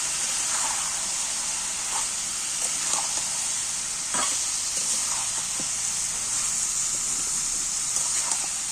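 Chopped onions and chicken pieces fry for a spiced chicken curry, a bright steady hissing sizzle with several brief stirring scrapes spaced through it.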